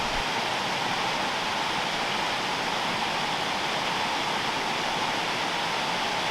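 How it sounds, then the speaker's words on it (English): The lower waterfall in the Valleys, a loud, steady roar of falling water heard close up, a dense unbroken hiss that holds evenly for over six seconds with no talking. "That's the lower waterfall."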